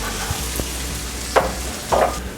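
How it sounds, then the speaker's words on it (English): Onions frying in vegetable oil for bobotie, a low continuous sizzle close by with two louder bursts of crackling as they are moved in the pan. "we're going to throw in our onions and fry them up."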